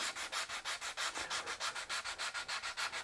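Rhythmic hand sanding of a guitar body for finish, brisk back-and-forth strokes of abrasive on wood in an even, quick cadence, close and steady with no voices.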